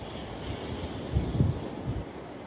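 Ocean waves wash in a steady roar with wind rushing past the microphone, one swell building and breaking a little louder midway.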